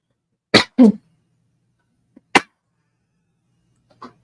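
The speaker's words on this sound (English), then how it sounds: "Why am I coughing?" Two quick coughs close together, a pause, then another single cough and a faint, softer one at the end, with silence in between.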